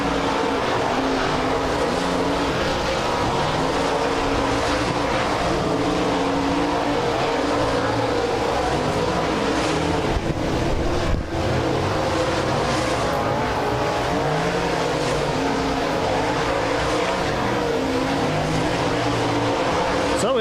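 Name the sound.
modified race cars starting up for group qualifying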